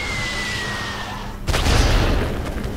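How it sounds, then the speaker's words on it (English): Airstrike in the video game Worms W.M.D: a steady whine gives way to a sudden loud boom, followed by a rumbling burst of blasts that fades over a second or so. "Here comes the airstrike."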